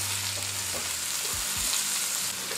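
Sliced leek fries in butter in a pan, giving a continuous close sizzle with a couple of soft low knocks from turning, no one speaking.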